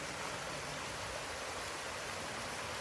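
Steady rushing water hisses continuously at low volume, like a small cascade heard from a short distance.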